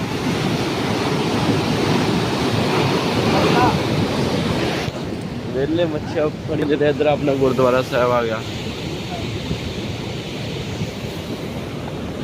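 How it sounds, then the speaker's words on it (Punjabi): Canal water rushes steadily past a leaking barrier on a Punjab canal flowing toward Pakistan, a loud continuous wash with wind buffeting the microphone while someone talks over it midway. "ਇਹ ਥੋੜਾ ਥੋੜਾ ਲੀਕ ਹੋ ਰਿਹਾ ਦੇਖੋ ਤਾਂ ਵੀ ਕਿੰਨਾ ਪਾਣੀ ਲੀਕ ਹੋ ਰਿਹਾ"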